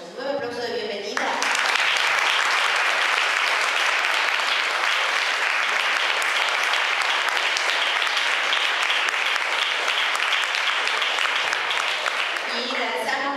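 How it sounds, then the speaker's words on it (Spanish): Audience applause at a creative-writing seminar, a dense, steady roar of clapping that swells in after a brief lead-in and holds loud for over ten seconds before tapering off. "le damos un nuevo aplauso de bienvenida"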